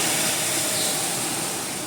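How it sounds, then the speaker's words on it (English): Heavy rain pours down in a dense, continuous hiss, loud and close with no talking. "It's pouring really bad."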